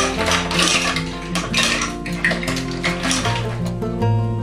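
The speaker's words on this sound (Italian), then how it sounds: "Versiamo le cozze nella pentola" Mussels tipped into a pot with olive oil and browning garlic, shells clattering and rattling against the metal in a dense, continuous cascade at close range.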